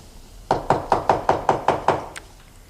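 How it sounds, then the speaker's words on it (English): Seven quick, loud raps on a wooden door in an evenly spaced rhythm, then one fainter final tap, heard alone in a quiet room. "I heard a knock."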